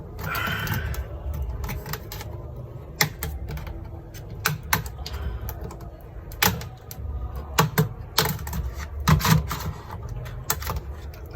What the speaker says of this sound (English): That's how you easily take out the keyboard.